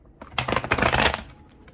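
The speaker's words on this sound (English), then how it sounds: "I had to do my little Vegas shuffle" A deck of tarot cards riffle-shuffled close up, a quick burst of dense fluttering card snaps lasting about a second, then settling into quiet.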